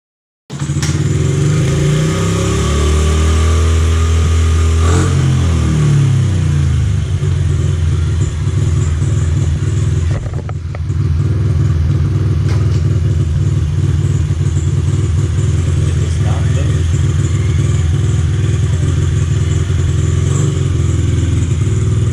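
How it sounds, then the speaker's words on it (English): A Honda XR 50 motorcycle with an automatic clutch starts up and runs, its small engine loud and close with a steady mid-pitched idle and a few brief revs, no voices. "this bike is an automatic clutch, and in first gear it would almost wheelie from releasing the brake"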